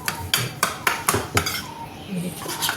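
A spoon clinks rhythmically against a bowl while mixing thick curd with buttermilk for carrot raita, about eight sharp knocks in a steady beat, close and fairly loud, with a little faint background talk.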